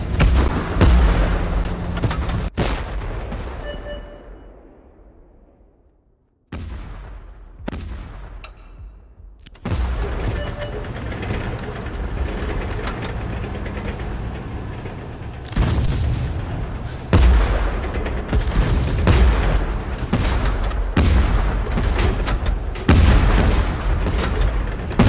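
Tank cannon blasts and heavy battlefield booms in Tank Force, loud and repeated, with rumbling gaps and sustained combat noise throughout.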